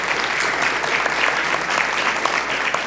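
Audience applauding after a lecture, a loud, steady patter of many hands clapping together, continuous throughout with no pause.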